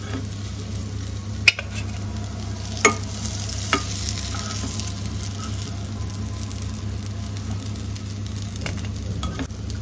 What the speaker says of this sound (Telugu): నెక్స్ట్ ఎగ్స్ అయితే వేయించుకుందాం